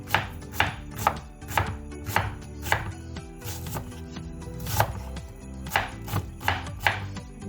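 A knife chops onions on a cutting board in a steady series of sharp, close knocks, some in quick clusters, with no talking.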